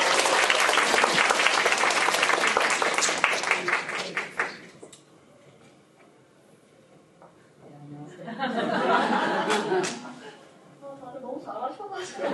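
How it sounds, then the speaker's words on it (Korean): A conference audience claps to welcome a presenter at a co-parenting academic session, steady dense applause for about four seconds, then quiet, then a second burst of clapping with light crowd murmur. "박수로 환영해 주시기 바랍니다."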